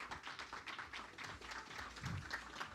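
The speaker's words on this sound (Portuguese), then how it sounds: "Palmas para ele," An audience claps for a guest at a corporate talk event, a steady patter of many hands from the room that continues evenly throughout without any speech.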